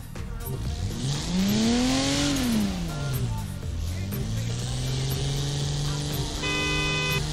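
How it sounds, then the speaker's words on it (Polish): A car horn blares in the Forza Horizon 4 racing game, a loud sustained honk with shifting pitch over a revving engine and squealing tires, close and steady. "Dobrze słychać ten klakson, fajnie jest."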